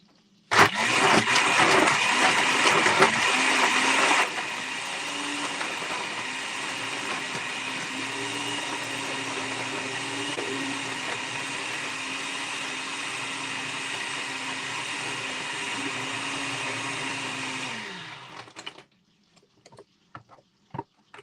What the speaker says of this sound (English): I'm going to turn this blender on